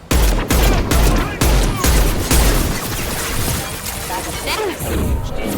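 Rapid bursts of gunfire in a Mass Effect 2 firefight, loud repeated volleys in the first half that give way to scattered shots and impacts, with voices in the mix.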